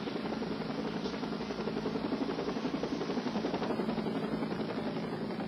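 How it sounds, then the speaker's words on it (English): Police helicopter searching overhead, a steady, dense rotor thump and engine drone that stays loud and unbroken throughout, with no talking. "As the helicopter searched over"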